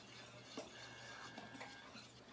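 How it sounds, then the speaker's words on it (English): A whisk mixing sugar and salt in a bowl for strawberry shortcake: a few faint, short scraping strokes over a steady low hum, close but quiet. "I'm going to take my whisk, just give that a short little mix"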